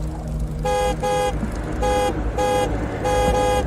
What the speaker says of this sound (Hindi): पीछे से कोई हॉर्न बजाया जा रहा था।